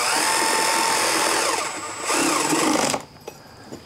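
Electric power tool snugging the primary cover bolts on an Evo Sportster chopper, a close, loud high-pitched whirring burst that dips, surges again, then stops, followed by brief quiet clicks.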